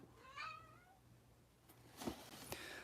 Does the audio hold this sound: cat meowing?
yes